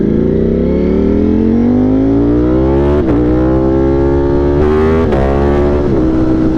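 A 2025 Ducati Panigale V4 motorcycle engine climbs steadily in pitch under hard acceleration, with brief dips at gear changes. It is loud, continuous and close, with no voices.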